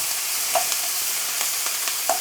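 Tofu and courgettes fry in a hot pan, giving a steady bright sizzle broken by a few soft stirring scrapes.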